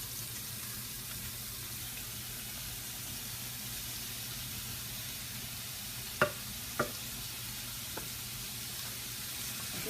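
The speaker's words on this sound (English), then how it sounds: "let's go ahead and add our mixture of vegetables" Mixed vegetables sizzle in oil in a pan, a steady quiet frying hiss with a few soft clinks of stirring.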